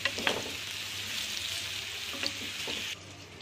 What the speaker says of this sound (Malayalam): പഴം നല്ലോണം ഒന്ന് വാട്ടിയെടുക്കാം നല്ലോണം ഒന്ന് റോസ്റ്റ് ചെയ്യണം